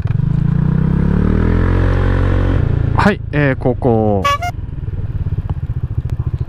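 A Honda PCX150 motor scooter engine hums and revs as it slows and makes a U-turn, close and loud, with a man's brief speech and a rhythmic idle pulsing afterward.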